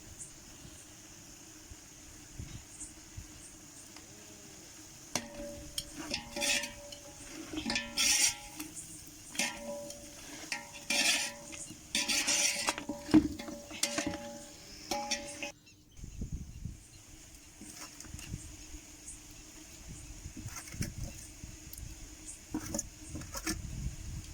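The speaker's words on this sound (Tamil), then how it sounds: "நல்லா மிக்ஸ் பண்ணிக்கோங்க" Ginger garlic paste is stirred into a country chicken curry in a metal pot, with faint scrapes and clinks of a spoon over a quiet background hum, pausing near the end.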